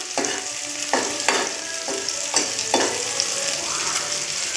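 Food frying in a pan while being stirred, with five or six evenly spaced scraping strokes over a continuous close sizzle.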